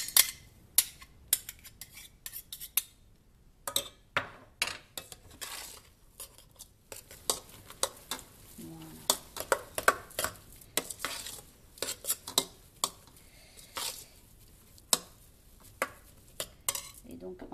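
A big spoon stirring homemade mashed potatoes in a pot, producing irregular scrapes, taps and knocks against the pot, close and fairly quiet, with no voices.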